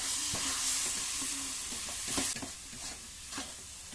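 Melted sugar being stirred into a coconut khoya laddu mixture in a pan, a soft steady hiss and sizzle with a series of spoon scrapes and knocks, close up and without voices.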